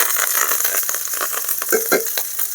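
Mustard seeds, onion, green chilli and curry leaves frying in hot oil for a chutney tempering, giving a steady close sizzle with crackling pops and a few sharper spatters near the end, with no talking.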